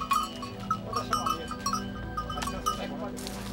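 Goats loaned to farming families bleat repeatedly in quick, overlapping calls, fairly close and loud over a busy outdoor background, with a steady low hum underneath.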